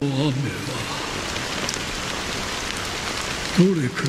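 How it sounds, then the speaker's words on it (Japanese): Rain falls in a video game cutscene, a steady, dense hiss of downpour that holds throughout, with a voice speaking briefly at the start and again near the end. "この雨は"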